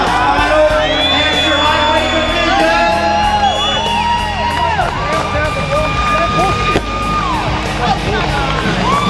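A crowd at an arm wrestling match cheers loudly, with shouts, whoops and yells piling up into a continuous roar that fills the room from start to finish.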